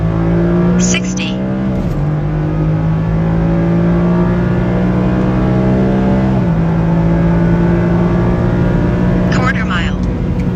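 A 2021 Ford F-150 pickup truck accelerates hard and loud, its engine climbing steadily in pitch with two distinct gear shifts, while people talk over the steady engine roar.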